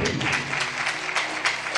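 An audience at a Punjabi-Hindi sermon gives loud, dense applause that fills the whole short stretch at a steady level, with no talk over it.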